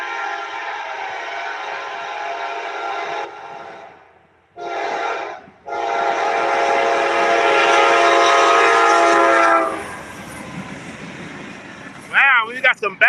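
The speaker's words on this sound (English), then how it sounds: "listen to that horn" A CSX freight train horn blares long and loud at close range near Hopkinsville, Kentucky, cutting out briefly, then sounding again as the train rumbles past. A few whistling tones follow near the end.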